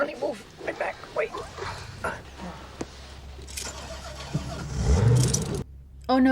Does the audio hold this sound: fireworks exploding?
no